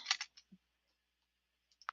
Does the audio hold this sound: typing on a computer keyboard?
yes